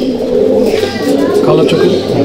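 A female Malbai/Panjabi pigeon coos in a loft, soft throaty warbles rolling continuously under someone talking nearby.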